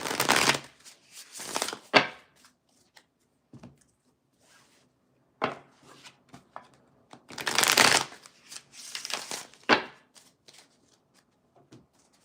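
Tarot cards are riffled and shuffled in several quick bursts separated by pauses and soft handling noises, close up with no speech.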